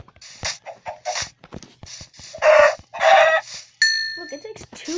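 Chickens get hit in a Minecraft-like video game, giving repeated clucking, squawking bird calls in short bursts with soft clicks between them, fairly close and loud, followed by a brief electronic tone.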